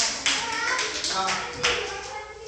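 Children in a classroom clap in a few short bursts at close range, with a voice talking over the clapping.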